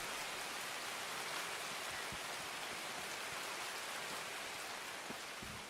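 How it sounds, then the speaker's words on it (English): Steady, dense rain pours continuously in the Escape from Tarkov video game, a loud broadband hiss with scattered droplet patters throughout, with no one speaking. "I can't hear shit with this rain going."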